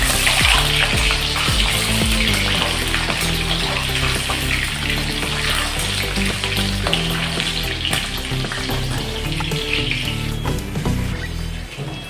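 An egg fries in a pan on a gas stove with a loud, dense, continuous sizzle and crackle that holds steady throughout, with no voices.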